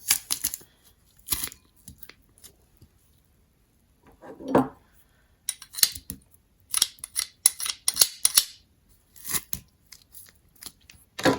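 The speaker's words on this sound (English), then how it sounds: "I'm going to press a few cloves of garlic." Garlic cloves squeezed through a handheld garlic press: quiet, close crunching and clicking in short irregular bursts separated by near silence.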